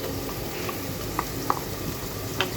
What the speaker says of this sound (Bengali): এখানে যে আদা বাটা রসুন বাটা পরিমাণ মতো সেটা দিয়ে দিচ্ছি